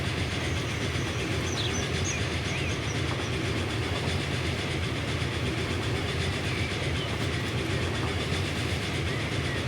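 A Transport Fever 2 passenger train with four Pullman six-axle carriages rolls along steadily, giving a continuous dense rumble with a faint clickety-clack, constant and close, with no talking.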